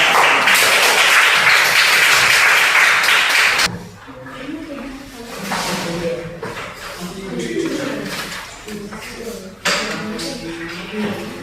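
Audience applause for a student group in a teacher-training classroom session, a dense burst of clapping for about four seconds that then gives way to voices talking in the room.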